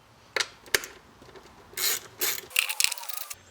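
Ratchet with a 10mm socket loosening nuts on a BMW 325i engine, short bursts of quick clicking ratchet strokes with small metallic taps between them, close and fairly quiet.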